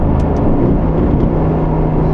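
A car engine downshifting through the gears with paddle shifters on a drive along open roads, a loud, steady, close engine drone with slight rises in pitch and no talking.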